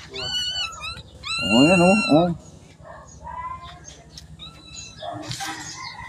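Small, high-pitched kitten meows, a couple of them, mixed with soft voices and other quiet background sounds.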